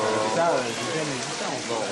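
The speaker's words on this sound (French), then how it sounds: "Une pluie torrentielle s'abat sur l'école" Torrential rain pours down on a school, a dense, steady hiss of heavy rainfall filling the space evenly from start to finish.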